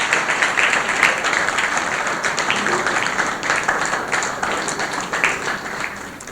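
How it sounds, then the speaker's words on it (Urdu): Church congregation claps to welcome a newly registered family, loud sustained applause with sharp individual claps standing out across the whole stretch. "تالیاں بجائیے جی"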